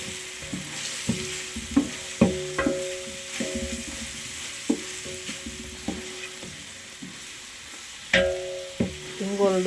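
Onion fries in hot tempering oil with a continuous close sizzle, punctuated by sharp clinks and taps of a spoon against the pan.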